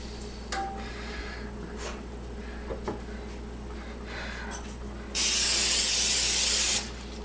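Cooking oil spray gives one loud, steady hiss lasting about a second and a half as it coats raw asparagus spears. A few faint clicks and light handling noises come before it in an otherwise quiet kitchen.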